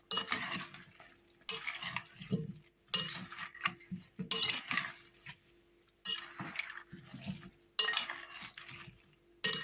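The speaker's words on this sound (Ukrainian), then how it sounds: "Файно все це перемішуємо." Rhythmic stirring of smashed cucumbers with balsamic vinegar in a bowl, a utensil scraping and clinking against the sides in repeated bursts with brief pauses between them.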